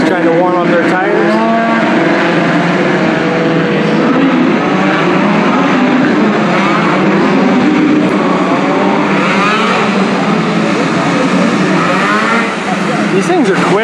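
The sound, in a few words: derby cars spinning tires on asphalt to warm them up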